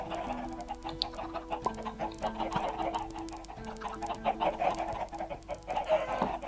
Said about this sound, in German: Na du Huhn.